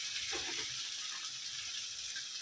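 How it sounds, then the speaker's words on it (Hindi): Ground Konkani-style masala paste roasting in a pan for fish curry, a faint, steady hiss of frying with a brief soft stir near the start. "मसाले को अच्छी खुशबू आने तक भुनेंगे"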